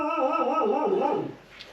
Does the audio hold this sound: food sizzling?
no